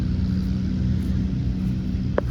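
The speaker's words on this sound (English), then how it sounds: "Model E John Deere engine." Model E John Deere stationary engine running at a steam-era show, a low steady rumble with even mechanical pulsing, close and continuous with a brief click near the end.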